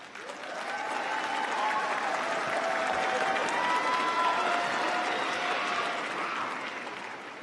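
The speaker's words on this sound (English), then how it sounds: "Look to them and give them a round of applause and thanks for their support." A graduation audience in an arena applauds steadily for several seconds, a dense wash of clapping that swells, holds and then tapers slightly, with faint crowd murmur underneath.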